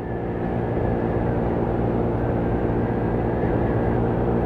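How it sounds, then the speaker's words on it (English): A 2018 Taotao Pony 50cc moped engine held at full throttle, a steady loud buzzing drone with constant pitch and no pauses, close and alone. "I'm at full throttle."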